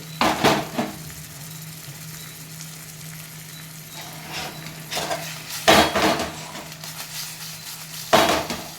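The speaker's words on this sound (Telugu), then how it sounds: "చిన్నగా కదిలిస్తాం" Spoon gently stirring fish curry in a pot on simmer, with a few sharp metallic clanks against the pot separated by quieter stretches of low sizzling. Close and fairly loud, with no talk.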